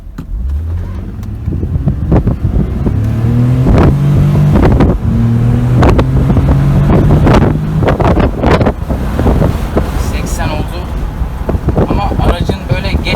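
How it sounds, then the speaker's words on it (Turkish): A Mercedes W203 C230 V6 car engine revs up, its pitch climbing and holding high before dropping back, with wind buffeting the microphone throughout. "Bir motor ses videosu çekelim arkadaşlar. Motorun sesini de duyalım."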